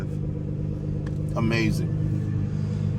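The engine of a tuned 2009 Nissan GT-R Premium, full bolt-on and running on E85 flex fuel, rumbles steadily while driving and swells briefly as it revs, with someone speaking briefly over it from inside the car.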